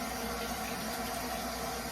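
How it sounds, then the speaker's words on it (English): Kitchen faucet running steadily for hand washing, a constant close rush of water filling the sink with no talk over it. "I'm going to wash my hands really well"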